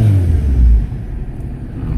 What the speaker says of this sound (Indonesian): kalau mungkin mau bikin knalpot, nanti suaranya jadi kayak gini